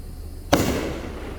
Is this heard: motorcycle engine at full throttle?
no